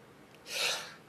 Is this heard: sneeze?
yes